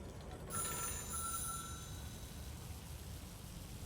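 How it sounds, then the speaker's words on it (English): Telephone ringing in the Control video game, a bright electronic ring starting after a brief pause and fading over a murky rain-like background hiss, heard alone without talk. "The phone rang."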